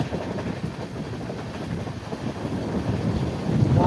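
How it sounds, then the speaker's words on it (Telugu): A train hauled by a WAP-7 electric locomotive runs at speed, a continuous low rumble mixed with heavy wind buffeting, rising slightly louder near the end. "మన ట్రైన్ని పుల్ చేస్తుంది వ్యాప్ 7 అనమాట"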